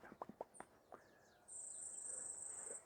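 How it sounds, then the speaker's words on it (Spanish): Morning birds give a few quick, close chirps at the start, then a steady high insect drone, like crickets, takes over and continues to the end. "Observen y escuchen los pájaros"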